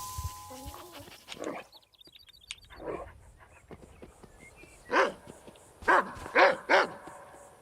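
Dog barking in Skyrim, several sharp barks, the last three in a quick loud cluster, with quieter game sounds and a few softer yelps before them.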